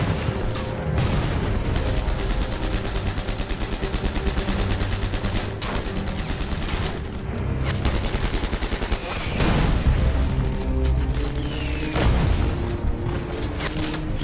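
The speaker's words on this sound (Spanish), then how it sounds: "los canadienses se siguen enfrentando a los intensos disparos que están realizando los defensores alemanes con armas" Intense small-arms fire in a WWII battle as Canadian troops face German defenders, with dense, rapid crackling bursts and scattered heavier booms rolling almost continuously.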